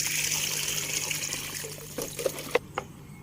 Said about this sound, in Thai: เดี๋ยวล้างอีน้ำนี้